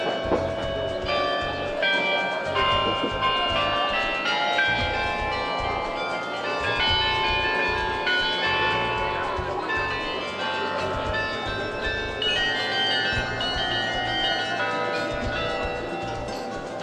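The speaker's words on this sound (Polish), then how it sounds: "To zagrał nowy, 37-dzwonowy carillon wykonany przez holenderską ludwisarnię" A new 37-bell carillon made by a Dutch bell foundry rings out in Gdańsk's Main Town, a long run of bright, overlapping tolls playing a melody over city street rumble.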